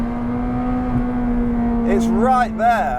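A McLaren 600LT engine and exhaust give a steady, droning note close by, and a voice speaks briefly over it near the end.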